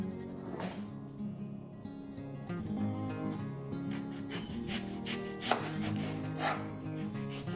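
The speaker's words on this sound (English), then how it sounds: "chopping the vegetables" Repeated knife chops on a cutting board as vegetables are cut into cubes, irregular rhythm of sharp thuds, close and clear, with faint background noise and no talking.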